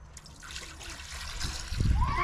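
Water trickles and splashes into a container, rising in level toward the end, with a faint higher tone near the finish.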